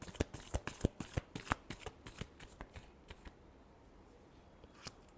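Playing cards riffled in a series of quick, crisp bursts during a tarot reading, loud and close, then a quieter stretch with one last snap near the end; no talking.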